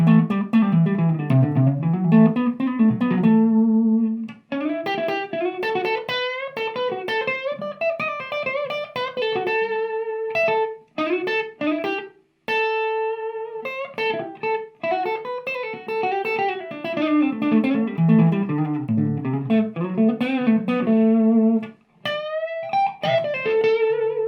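An electric guitar played through a Peavey 6505 amplifier, switched in via an ABY pedal, rings out in a long, loud distorted passage of chords and single notes with brief pauses between phrases.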